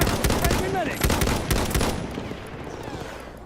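Rapid gunfire in a competitive 8v8 Battlefield 1 Frontlines match: dense bursts of sharp shots rattle loudly for about two seconds, then fade into a quieter, distant tail.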